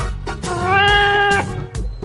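A kitten gives one long, loud, drawn-out meow close by, framed by brief rustling and handling noises.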